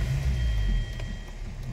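A Hyundai car engine catching after a push-button start, a steady low idle hum close by with a faint tonal whine above, settling slightly after the first second.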